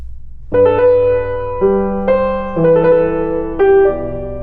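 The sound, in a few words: piano passage with mordent and trill ornaments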